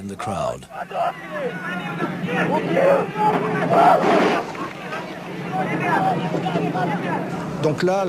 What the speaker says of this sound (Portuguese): E a multidão começou a gritar.